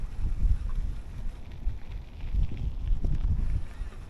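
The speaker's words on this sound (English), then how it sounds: "Still pretty windy." Wind blowing across the water while fishing for California halibut in the Bay Area, gusty low buffeting rumble against the microphone, steady and fairly loud with no talk.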